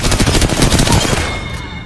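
Rapid gunfire from the battle royale game Apex Legends, a loud, dense burst of shots that tails off toward the end.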